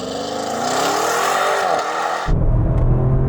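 An Audi RS6 accelerates hard, its engine note climbing loud and close through the gears. The sound drops abruptly after about two seconds into a deep, steady rumble.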